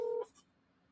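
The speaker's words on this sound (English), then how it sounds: "I'm trying to call somebody." A single short telephone keypad tone rings out briefly, followed by a couple of faint soft clicks, heard close and alone.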